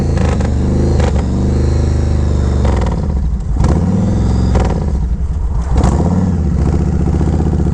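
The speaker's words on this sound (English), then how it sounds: "riding on this Roadstar 1700 from the west coast, Sarasota." Yamaha Road Star 1700 motorcycle riding, a loud, steady mid-pitched engine drone with rumbling and shifts in revs, close and continuous with wind noise throughout.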